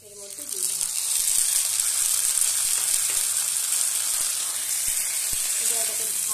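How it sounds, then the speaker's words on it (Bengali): Unpeeled potatoes frying in a pan with ginger, dry chilli, cumin, salt, sugar and turmeric, a steady loud sizzle that starts abruptly, with occasional clicks of stirring and a voice speaking briefly. "এবার এটাকে ভালো করে ভাজব।"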